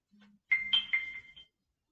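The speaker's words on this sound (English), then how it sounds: "Sorry, my phone is beeping at me." A phone gives a quick run of bright electronic beeps, four or five short tones in a rapid cluster after a faint low hum, close and clear with silence after.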